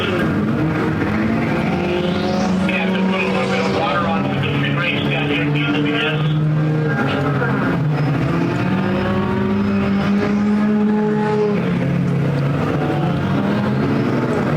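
Mini stock race cars roar around Perris Auto Speedway, engines droning loud and continuous with rising and falling pitch as cars pass, over a constant crowd-like wash.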